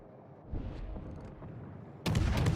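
Naval guns firing in a World of Warships battle, a loud broadband blast arriving near the end after a stretch of rumbling background, booming alone without voices.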